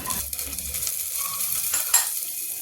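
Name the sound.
whole garam masala spices frying in oil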